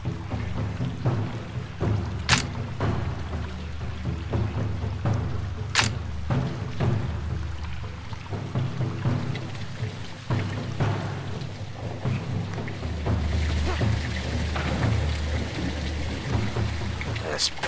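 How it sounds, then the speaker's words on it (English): Heavy rain and thunder in Call of Duty: Modern Warfare 2, a steady loud downpour with a few sharp cracks and low rumbles, continuing throughout under occasional voices. "It's raining fucking hard."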